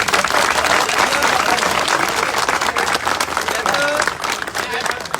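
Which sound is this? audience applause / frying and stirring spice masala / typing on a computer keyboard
audience applause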